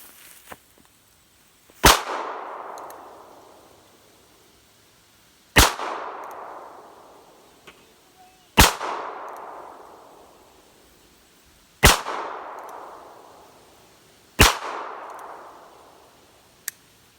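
Five sharp gunshots from a North American Arms .22 Magnum mini revolver loaded with light rounds, fired one at a time every few seconds outdoors, each crack loud and followed by a short ringing decay.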